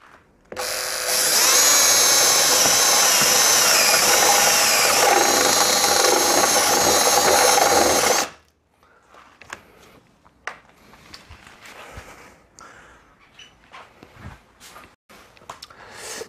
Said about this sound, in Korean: 드릴로 뚫습니다.